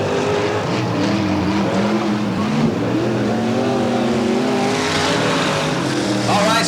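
Race cars circle a short track in a Budweiser Racing Series event at Bakersfield, California, with a loud continuous engine roar and changing pitches as cars pass. The noise stays steady throughout.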